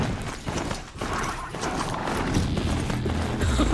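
A Strider machine mount running in Horizon Zero Dawn, a rapid steady clip-clop of hoof-like footfalls with mechanical clanking, loud and close.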